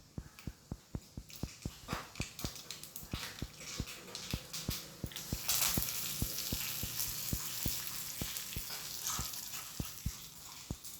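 Mustard seeds sizzling in a hot pan, sputtering under a steady fry hiss, with sharp regular ticks running through the first half before the frying settles into a denser, continuous sizzle.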